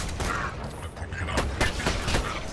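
Gunfire from Borderlands 2, aimed at cannons, comes as a dense stream of shots and bursts over constant loud game noise.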